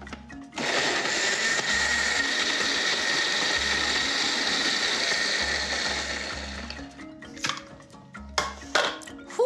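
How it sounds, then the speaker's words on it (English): A kitchen blender blitzes dates with olive oil and salt into a chilli sauce, running loud and steady for about six seconds before stopping, followed by a few light clinks of utensils. "And then we blitz it up until it's nice and smooth"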